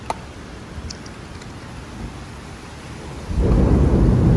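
Heavy rain pours steadily with a low rumble of thunder, the downpour swelling sharply louder near the end; no voices.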